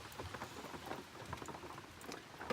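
Rain patters steadily outdoors on an early fall morning, a soft, dense crackle of drops with scattered louder hits, fairly quiet and without any voices.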